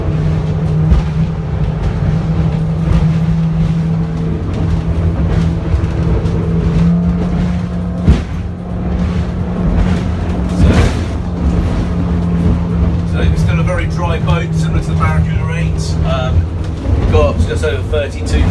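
A Beneteau Barracuda 7 speedboat engine drones loudly and climbs in pitch as it speeds past 32 knots, with a voice talking over the roar.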